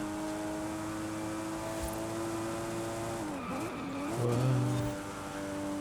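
A car in Forza Horizon 5 keeps a loud, steady engine tone, then the pitch sweeps down and back up as it shifts gears. Tire noise rises near the end, and no one speaks.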